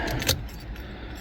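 Keys jangle briefly up close as an immobilizer key for a 2016 Honda Civic is handled and placed into the ignition, a short metallic rattle over a low steady background hum.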